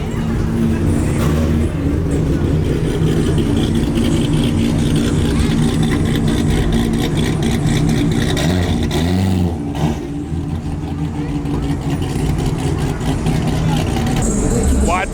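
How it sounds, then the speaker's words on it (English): A wide-body Subaru BRZ rolls slowly through a busy car meet, its engine a steady low rumble under loud crowd chatter and nearby talking. "Wide body BRZ rolling through."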